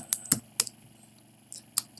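Keys on a computer keyboard are tapped in a few sharp, close clicks in short clusters, separated by near-silent pauses, with no talking.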